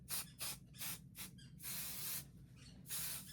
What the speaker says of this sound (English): I'm going to take my adhesive, that would help, and I'm going to spray it around the edge